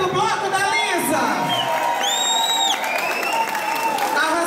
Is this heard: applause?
yes